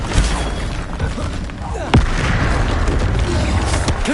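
An Expelliarmus spell is cast in the video game Hogwarts Legacy. A sharp, booming burst lands about halfway through, over a busy background of rumbling game noise.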